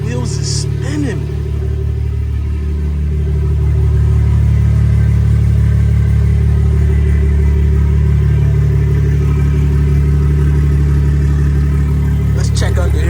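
A BMW 340i with a B58 engine runs steadily, its wheels spinning while the car sits in place, producing a loud, continuous low drone and hum that swells slightly partway through, with people talking nearby over it.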